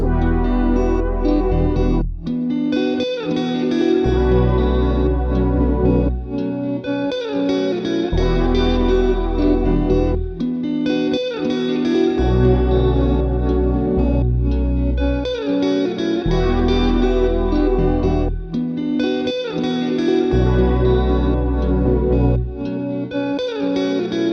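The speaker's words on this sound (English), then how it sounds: "we have this guitar top line and these chord like synth stabs" Punchy synth chord stabs pulse over strummed guitar chords and a deep bass, looping steadily in a full, loud electronic arrangement.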